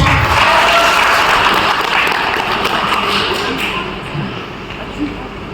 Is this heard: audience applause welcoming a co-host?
yes